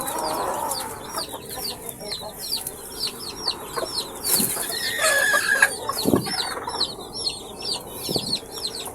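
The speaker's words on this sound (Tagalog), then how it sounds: "Yan yung ating inahin na white kelso" A white Kelso hen clucks in repeated short calls from a backyard poultry yard, with other chickens and a faint rooster crow around it and some light background noise.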